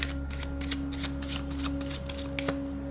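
A deck of tarot cards shuffled close by, giving a steady run of soft papery riffles and flicks over a constant background hum, with no talking.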